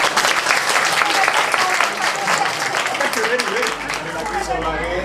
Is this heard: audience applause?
yes